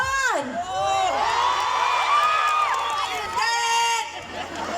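A crowd at a festival contest in Roxas City, Capiz, shouting, whooping and cheering loudly for a contestant, a sustained roar of many voices rising and swelling for several seconds.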